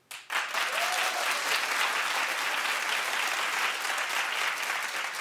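Sustained audience applause fills the space, a dense steady wash of many hands clapping that starts abruptly and continues evenly, with no clear speech.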